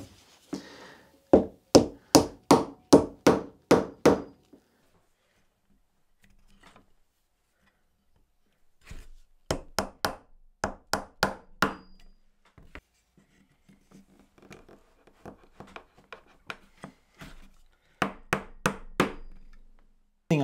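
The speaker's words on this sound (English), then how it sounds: "So I'm going to get some PVA wood glue put into the holes and then get the dowels tapped down into place." Glued wooden dowels are tapped down into holes in a wooden leg, heard as close bursts of rapid, evenly spaced knocks in three groups with quiet pauses and a few lighter taps between.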